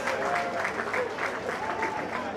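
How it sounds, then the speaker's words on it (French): Audience applause for a performer named Cabral at a stage show, a steady dense wash of clapping with a few voices calling over it, moderately distant. "est-ce qu'on peut applaudir pour Cabral"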